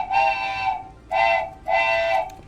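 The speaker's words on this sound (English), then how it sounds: "the hype train leaves the station and you can hear it" A stream alert plays a train whistle, three sustained whistle blasts, the second brief and the others longer, loud and clear with no talking.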